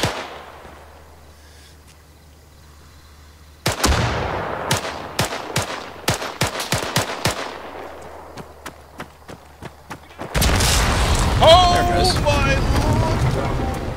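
Grenade-launcher blasts boom in an online shooter game, one loud burst followed by a scatter of sharp gunshots and impacts, then a second heavy, sustained roar of explosion and debris near the end.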